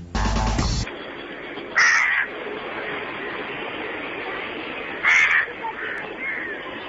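A crow caws from a house's rooftop ledge in two short, clear bursts a few seconds apart, over a steady hiss and a loud noise burst at the start.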